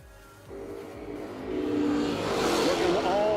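Drag race cars, including a 1975 Dodge Dart Swinger, run at a drag strip. A broad engine roar swells and grows louder and closer, and a voice speaks over a public address near the end.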